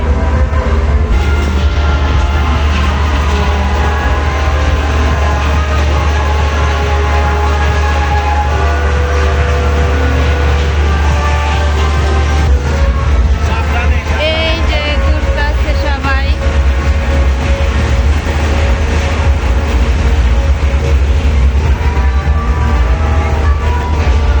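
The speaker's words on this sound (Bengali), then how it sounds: "এই যে এখানে আছে ট্রেন এটা বাচ্চাদের জন্য একটু নিরাপদ" A small children's ride train at Wonderland amusement park rumbles steadily along with a constant low drone and faint clatter, busy crowd noise and scattered voices around it.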